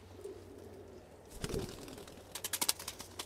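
Pigeons of good breeds coo softly in short bursts, quiet and close, with a few throaty coos and light rustling between them.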